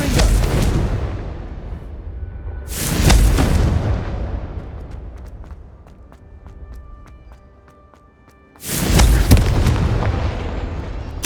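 Confringo fire spells blasting in Hogwarts Legacy, three loud booming explosions that each roll off into a fading rumble, with lighter game effects and chimes in the gaps between them.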